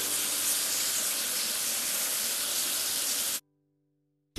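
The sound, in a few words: rinsing soap foam off tractor engine in video game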